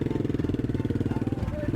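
Royal Enfield motorcycle idling, a rapid, evenly spaced thumping exhaust beat close by and steady throughout.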